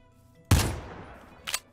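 Gunfire in a Fortnite-style mode of Minecraft: one sharp, loud shot with a decaying tail, then a second, fainter burst a second later.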